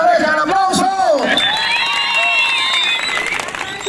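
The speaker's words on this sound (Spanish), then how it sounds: "Primer pareja, el aplauso" Festive outdoor crowd at a slapping contest in Cacalotepec Mixe, Oaxaca, cheering with whoops and shouts for the first couple, with clapping and lively voices mixed in a loud, dense roar.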